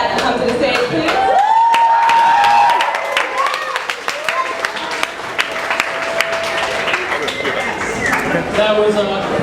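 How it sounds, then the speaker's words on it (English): A live coffeehouse comedy crowd in Baltimore bursts into loud, sustained applause with cheers as a comedian takes the stage, the clapping easing after a few seconds while a voice talks over the fading claps. "That was quite a big applause considering I haven't done anything yet"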